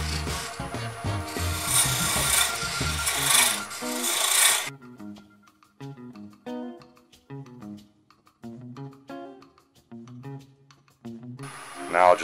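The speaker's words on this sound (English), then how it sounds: "I'm going to switch out to my diamond parting tool" A diamond parting tool bites into a segmented wood bowl spinning on a lathe, first a loud, steady rasping scrape for several seconds, then falling quiet to short, intermittent scraping touches.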